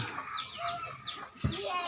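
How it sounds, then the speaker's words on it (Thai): A newly bought young chicken, about seven months old, clucks in short bursts at close range, with a person talking nearby and other birds faintly in the background. "ไก่ซื้อมาใหม่เนาะตัวนี้ ไก่ยังอ่อนเนาะตัวนี้"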